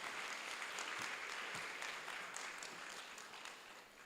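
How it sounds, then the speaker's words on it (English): An audience applauds student performers at a live event with steady, even clapping from a crowd heard at a distance, faint but continuous throughout. "Give them another round of applause."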